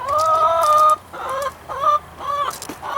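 Chickens cluck and squawk in a coop shared with quail, several loud, close bursts of rising calls separated by short pauses, with no talking.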